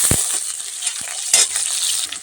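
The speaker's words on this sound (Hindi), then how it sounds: "तो तेल गरम हो गया है, इसमें डाल देते हैं प्याज, हरा मिर्चा भी डाल दे रहे हैं अब अच्छे से भून लेते हैं" Onion and green chili fry in hot oil, giving a close, steady sizzle broken by a few sharp clinks and scrapes of stirring.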